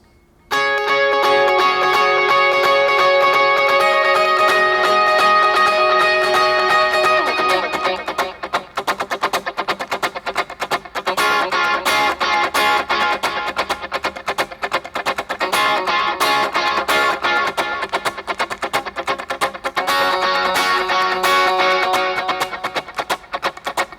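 An electric guitar strums continuously and loudly in a song, its chords smeared by repeating delay echoes that blur the rhythm into a shimmering wash.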